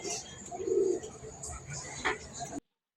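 Fancy pigeons, including Danish and Jacobin breeds, coo softly in low throaty bursts at close range, while someone talks over them and faint chirps sound in the background.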